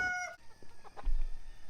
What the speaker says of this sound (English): Let's talk about feeding the chickens next.